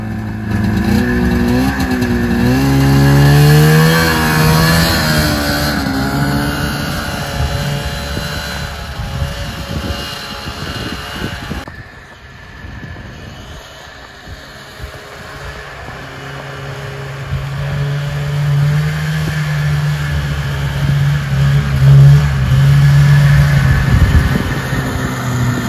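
A 1979-1980 Yamaha SRX 440 snowmobile engine revs loudly and close, rising and falling in pitch with a brief drop in the middle before it winds back up.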